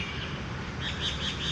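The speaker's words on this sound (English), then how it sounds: "A lot of parrots." Parrots chirp and call repeatedly over a steady outdoor background hum, their short bright calls coming in a quick series toward the end.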